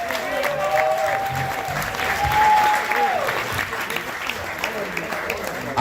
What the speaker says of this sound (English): Now that deserves some real applause.